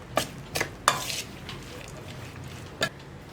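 Onion bonda batter being mixed after hot vegetable oil is poured in, a few sharp scraping strokes near the start and one more later, with quiet stretches between.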